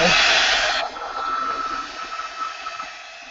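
A hair dryer blows loudly for under a second while drying a freshly worked art journal page, then cuts off, leaving a quieter steady whir.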